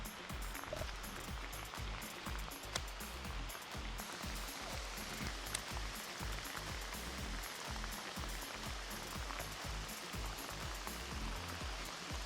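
Heavy tropical rain pours steadily during a snakehead fishing trip in Brunei, a loud, dense and continuous hiss of drops drumming on surfaces, with no voices over it.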